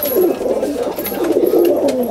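Pigeons in a home loft coo continuously in low, rolling bursts, close and steady throughout with no talk over them.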